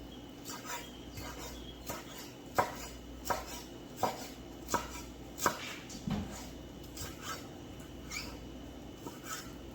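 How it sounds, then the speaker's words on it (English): A knife rough-chops fresh cilantro on a board, giving a series of crisp, evenly spaced thuds at close range that gradually soften, with faint kitchen clatter underneath. "go ahead and get this fresh cilantro chopped up"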